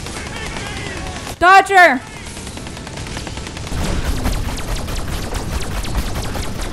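Rapid bursts of gunfire from the Destroy All Humans remake crackle steadily through the second half, loud and dense, following a short shouted voice and continuing beneath ongoing game noise.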